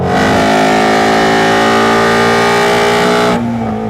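A 2016 Ford Mustang Shelby GT350R engine revs loudly and steadily with a rich harmonic roar, then the tone drops off sharply near the end as the throttle eases.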